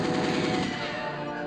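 Rapid automatic gunfire from a GoldenEye-style shooter with Mario characters, dense and continuous bursts filling the whole moment at steady loudness, no talking.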